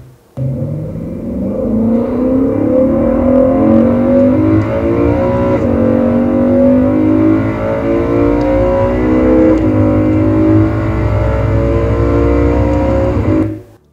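A loud car engine heard from inside the cabin, a steady roar with rising harmonic whine as it revs and accelerates, continuous from start to finish.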